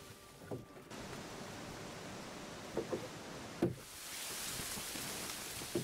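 Steady rushing waterfall ambience from the video game Olija, a broad continuous wash of falling water that holds throughout, with a few faint soft clicks and thumps over it.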